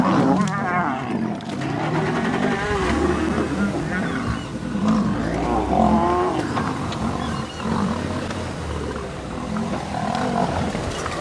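Male lions, two brothers, roar and snarl as they fight near a lioness on a morning safari, loud and close over low vehicle rumble, with a guide speaking at times.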